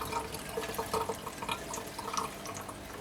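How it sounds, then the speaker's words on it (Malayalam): Water squeezed out of freshly made homemade paneer curds trickles and drips in small uneven splashes, close and fairly quiet, with no talking. "ഇതിലത്തെ വെള്ളം നന്നായിട്ടങ്ങ് കളയണം. അപ്പോൾ ജസ്റ്റ് ഒന്ന് സ്ക്യൂസ് ചെയ്ത് കളയാം"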